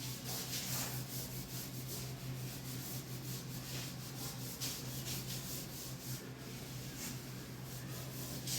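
Rubbing away marks on a vernier caliper setup, a steady continuous scrubbing friction that keeps going without a break the whole time at moderate closeness, with a low hum underneath.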